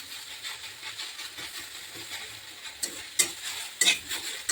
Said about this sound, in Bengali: পাট শাক বেশি ভাজতে হয় না